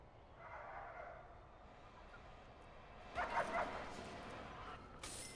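Guard dogs in the prison-building game Prison Architect give faint yips and short barks, clustered mostly in the middle, over a low steady game background.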